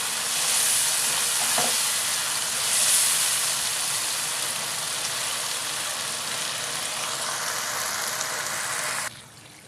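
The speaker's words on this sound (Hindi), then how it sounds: "बॉईल किया हुआ गोश्त ऐड करते हैं। दो 3 मिनट फिर से भून लेंगे।" Boiled beef frying in a pot for pulao, a loud, close, steady sizzle and hiss with occasional stirring, cutting off abruptly at the end.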